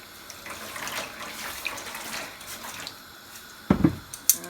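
Water splashes and pours into a container of yarn being over-dyed, a soft running trickle through most of it, then a louder, closer gush near the end with a couple of sharp clinks.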